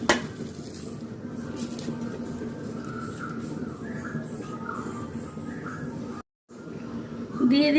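Tikka kebab meat is worked by hand with spices and bay leaves in a bowl, giving a steady, soft, moist churning and light scraping that runs continuously, with a brief gap near the end.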